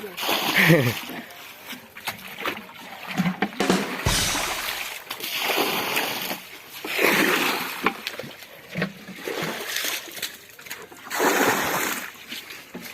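Water is scooped and thrown out of a small fish pond to catch fish in rural Laos, making repeated splashes and sloshes in an uneven rhythm close by while people talk.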